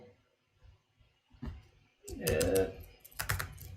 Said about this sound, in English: I'm gonna be typing.